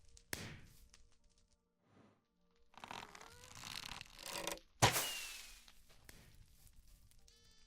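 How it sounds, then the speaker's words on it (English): Crossbow being loaded with a firework rocket in Minecraft PvP: a sharp click near the start, a few soft shuffling thuds, a louder mechanical crank and creak, then a bright snapping burst, all close and without speech. "Load the crossbow."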